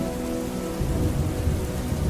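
Steady rain with rolling thunder, a constant wash of downpour on surfaces with a low rumble swelling partway through, no voices.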